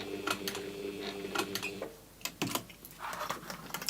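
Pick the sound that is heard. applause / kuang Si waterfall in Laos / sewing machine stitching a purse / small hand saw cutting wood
sewing machine stitching a purse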